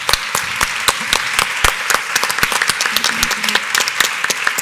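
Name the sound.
audience applause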